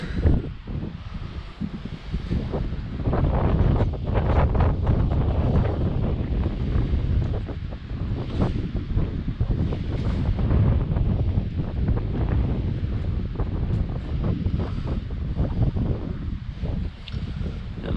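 Strong wind buffets and roars steadily across the microphone for the whole stretch, with no voices.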